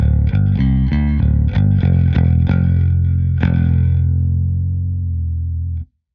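A distorted electric bass plays a quick run of plucked notes, loud and effect-heavy, ending on a long sustained bent note that rings out before cutting off.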